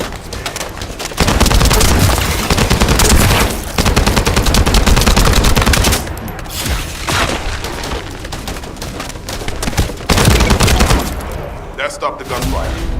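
Sustained automatic gunfire and explosive booms in The First Descendant shooter game, loud and dense for most of the stretch with brief lulls, mixed with battle effects and some voice-like sounds.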